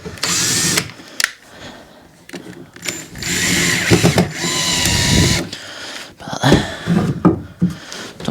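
A power drill works screws on a shed door in several bursts of whirring and ratcheting, loud and close, separated by short pauses and handling noise.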